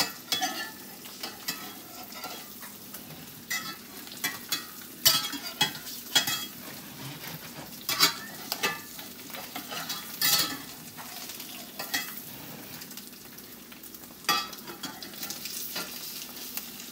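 An egg sizzles and fries in a new cast iron skillet, a steady close crackle broken by repeated scraping and stirring clatters of a utensil against the pan, with no voices.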